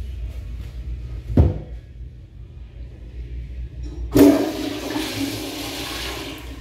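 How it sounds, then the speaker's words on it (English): A Pressure Lite pressure-assisted toilet flushes in a close bathroom: a sharp thump at first, then a few seconds later a loud, sudden rushing whoosh of water that keeps surging steadily to the end. "Gonna see if it can take it on a second flush."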